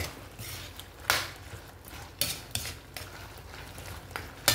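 Chicken feet and intestines cooking as adobo with calamansi juice and vinegar are stirred in a pan, with several scraping clanks of a utensil against metal over a soft sizzle.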